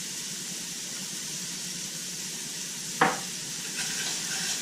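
Onions and peppers sizzling in a pan, a steady even hiss with one sharp clink of a utensil partway through and a slight rise as stirring resumes, no voices.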